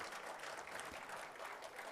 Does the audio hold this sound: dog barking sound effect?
no